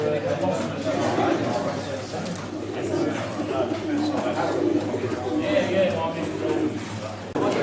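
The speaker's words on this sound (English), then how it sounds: "They've got a good entry this year of nearly 600 pigeons." Soft cooing from racing pigeons in a hall at a large show in High Wycombe with nearly 600 birds entered. The cooing is steady under a busy murmur of voices.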